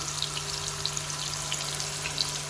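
A thick burger patty fries on low heat in a cast-iron pan, a constant crackling sizzle with small pops, close and even throughout.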